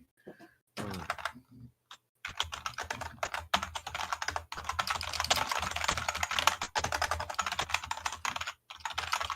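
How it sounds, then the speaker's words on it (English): Rapid typing on a computer keyboard, a dense stream of quick clicking keystrokes with brief pauses, close and fairly loud, with no talking. "Holy crap, you're fast at typing."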